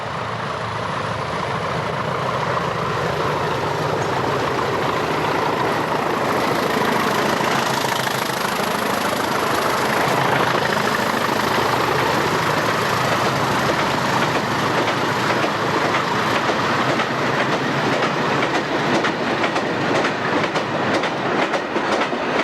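Class 20 diesel locomotives haul a coal train of empty wagons returning to King's Lynn, a loud, close, sustained engine roar blended with rhythmic clickety-clack of wheels over rail joints.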